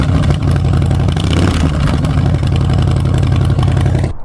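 A 2021 Harley-Davidson Softail Fat Bob 114 motorcycle runs loud and close, its big V-twin engine throbbing steadily with slight revs, and no talk over it.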